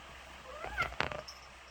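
A cat gives two short meows in quick succession, close and clear over a quiet background.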